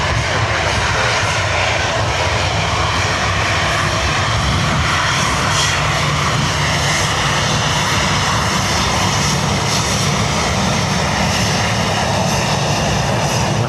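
Loud, continuous engine noise from an ATR turboprop departing Dublin Airport for Edinburgh, a dense steady roar close by with no voices over it.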